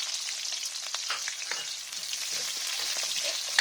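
Onion goes into garlic already frying in hot oil, producing a bright, steady crackling sizzle with light stirring scrapes, fairly close and with no voices.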